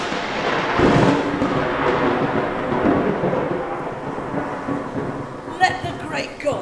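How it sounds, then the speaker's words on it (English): A theatrical thunderstorm effect for a stage production of King Lear: a steady roar of wind and rain with rolling thunder, loud and continuous, swelling near the start and with a sharper crack toward the end. "Oh, such groans of roaring wind and rain I never remember to have heard."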